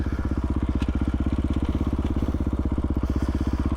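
A Kawasaki KLR motorcycle thumps along a rough desert road, its single-cylinder engine pulsing in a fast, steady rhythm close by with some clatter.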